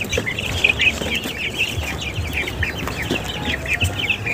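Many chickens cluck steadily and close by in an overcrowded farm coop, a dense, continuous chorus of overlapping calls with occasional rustling.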